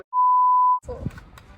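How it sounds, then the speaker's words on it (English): A single steady electronic timer beep, a pure high tone lasting under a second as the countdown runs out, followed by faint room noise and brief indistinct talk. "poi scade il timer di mezz'ora"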